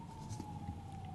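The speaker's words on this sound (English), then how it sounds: "You might hear a siren right now." A single emergency siren holds a steady tone in a Brooklyn, New York street, faint and distant, beneath low background rumble.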